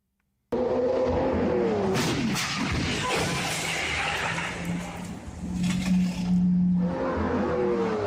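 A Lamborghini Aventador engine roars and revs hard beside skidding tyres, loud and sustained, with a brief dip before the pitch climbs again.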